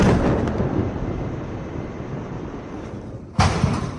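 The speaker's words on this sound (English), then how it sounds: "In the morning, more airstrikes." Explosions from Israeli airstrikes in Gaza: a long, deep rumbling roar that slowly fades, then a sharp, loud blast near the end, heard with no voices.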